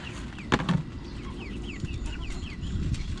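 Backyard chickens clucking close by in a short run of soft, repeated clucks and chirpy calls over a low murmur of background noise.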